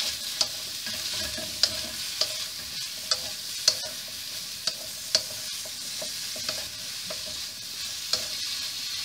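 Vegetables with carrot stir-fry in a pan, giving a steady low sizzle broken by regular sharp scrapes and clacks of a spatula, close and fairly quiet with no voices.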